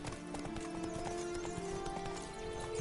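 Roach the horse gallops in The Witcher 3: Blood and Wine, a quick steady clip-clop of hooves running close and clear, with no voices over it.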